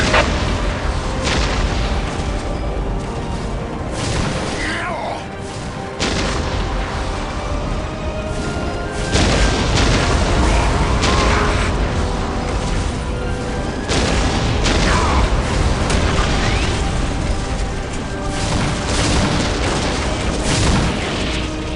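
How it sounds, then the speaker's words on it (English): A Whirlwind missile battery fires in the Warhammer 40k: Dawn of War video game, with dense, continuous booms and blasts rolling through a battle, loud and unbroken for the whole stretch. "Preparing Whirlwind missile battery to fire."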